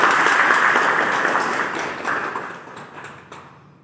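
Audience clapping at a Bhojpuri film muhurat launch event with Pawan Singh, a dense burst of applause that starts loud and gradually thins and fades over a few seconds.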